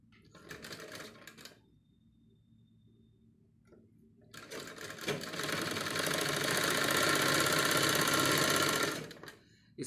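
A sewing machine stitches neck piping: a short rattling run, a quiet pause, then a longer, louder, steady burst of close stitching that stops abruptly.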